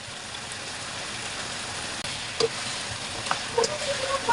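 Adobo with beans, carrots and potatoes simmering in a pan, giving a steady sizzling hiss, with a few light scraping clicks from stirring near the end.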